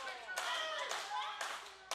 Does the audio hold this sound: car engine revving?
no